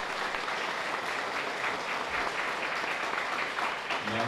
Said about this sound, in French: Nous avons applaudir encore le directeur Philogène.